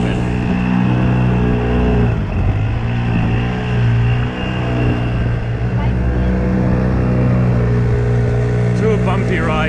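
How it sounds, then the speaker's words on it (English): A 2-stroke 5 horsepower outboard engine drives a small boat at steady, loud revs with a buzzy, moped-like drone, continuous throughout with slight pitch wavering as the boat rides over bumpy water. "This is a 2-stroke 5 horsepower outboard engine."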